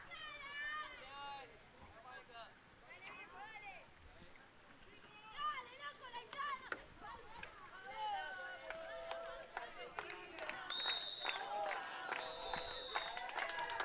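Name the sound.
Argentina crowd chanting and cheering at canoe polo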